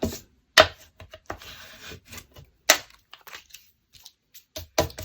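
A bone folder creasing paper for a junk journal pocket, heard as close, sharp scraping strokes and crisp rubs separated by short pauses, with some paper rustle, no speech.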